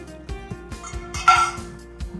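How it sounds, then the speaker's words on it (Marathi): Ingredients crushed in a stone mortar with a pestle, a rhythmic series of about eight dull thuds at a steady pace, close and fairly loud, with a brief grinding scrape in the middle. "आता खलबत्ता आहे, खलबत्त्यामध्ये मस्त ठेचून घेणार आहे मी"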